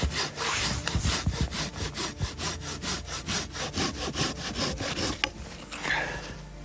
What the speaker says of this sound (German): Damit kann man schneller sägen und vor allen Dingen auch noch etwas dickere Bäume gut durchsägen.